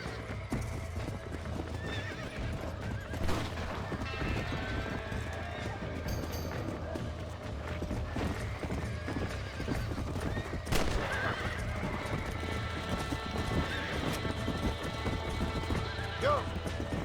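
A horse galloping and neighing in the video game Red Dead Redemption, steady hoofbeats pounding throughout with whinnies rising over them, mixed with gunfire-like hits and voices talking.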